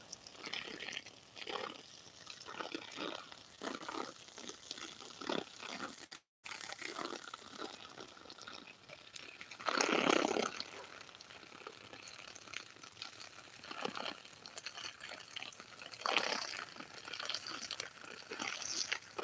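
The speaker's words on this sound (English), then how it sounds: "I'm gonna put a little bit more water on our squash and zucchini." Water poured from a hose or can onto squash and zucchini plants in a sunny garden late in the day: soft intermittent splashing and trickling bursts, fairly faint, with no talk.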